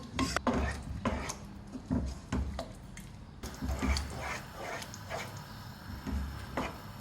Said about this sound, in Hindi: मिक्स करेंगे इसको।